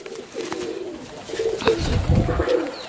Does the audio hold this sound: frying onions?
no